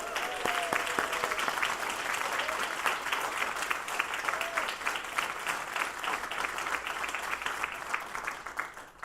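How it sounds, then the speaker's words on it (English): Sustained applause from an audience at a family medicine residency graduation, a steady, fairly distant patter of many hands clapping for the full stretch, with a brief voice near the start. "please join me for another hearty round of applause"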